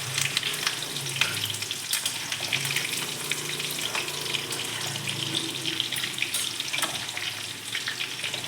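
Curry leaves hit hot oil in a pan of chicken kebab, making a dense, busy crackling sizzle that stays steady and fairly close for several seconds.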